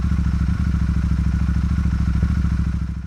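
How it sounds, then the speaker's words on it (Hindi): A Royal Enfield Bullet 650 motorcycle idles with a steady, deep, rhythmic engine thump, loud and close, continuous for the whole stretch with no voices. "लेकिन क्या इसमें वो बुलेट का आइकॉनिक थंप अभी भी आएगा?"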